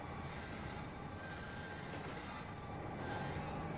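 A steady rumble of a train rolling along rails, heard from inside the carriage, with a constant low roar, faint rail squeal and light clatter, no talking.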